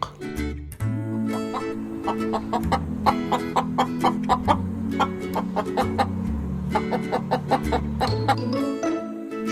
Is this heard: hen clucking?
yes